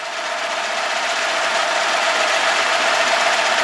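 A hand-sharpened milling cutter plunges into a metal disc being machined for perforation, giving a steady, loud, continuous high whine with even grinding hiss throughout, no talk over it.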